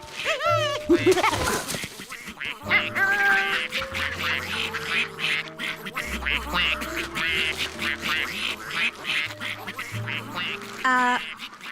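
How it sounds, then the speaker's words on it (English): Cartoon ducks quacking repeatedly in quick bursts amid lively background music and sound effects, close and clear throughout. "Ducks!"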